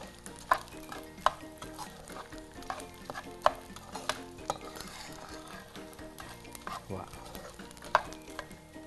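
Fried, puffed edible gum (dink) is stirred in a pan, with a steady frying hiss and clinks of a spoon against metal at irregular intervals. Background music runs faintly underneath.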